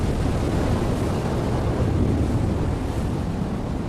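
Rough ocean surf churns in a continuous loud roar of breaking waves, with wind buffeting the microphone and no voices.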